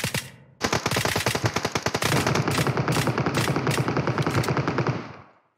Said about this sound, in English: Catching some stray bullets here.